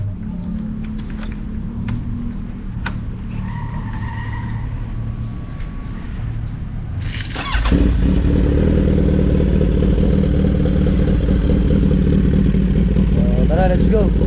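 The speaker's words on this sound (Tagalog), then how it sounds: "Start na natin yung motor natin." A motorcycle engine, not on an open pipe, fires up at a car slalom and drifting event and settles into a loud, steady, close-up rumble, after several seconds of busy background noise.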